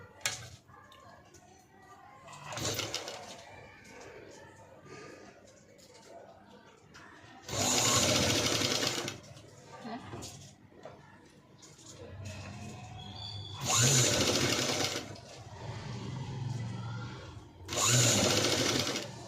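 A sewing machine stitches pre-sewn samosa patchwork fabric pieces in loud, buzzing bursts of a few seconds each, separated by quieter handling of the cloth.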